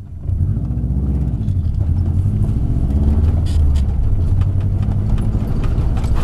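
A car drives on the race circuit at Château de Lastours, heard as a loud, steady low engine drone that holds constant throughout the clip, with no voices.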